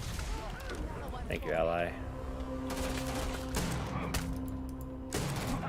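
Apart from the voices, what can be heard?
shotgun gunfire in the video game Starfield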